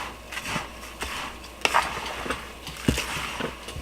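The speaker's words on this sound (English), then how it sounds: "now we're going to just stir all that till it's mixed really well" Granola ingredients and nuts stirred together in a bowl, giving a soft rustling, scraping rub with a few sharper knocks of the spoon against the bowl, close and fairly quiet.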